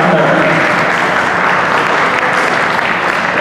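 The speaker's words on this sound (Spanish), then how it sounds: "Un fuerte aplauso" Loud, dense applause from the audience at the opening ceremony of the 2016 Pan American Masters championship, a sustained close roar of clapping that holds steady from start to finish.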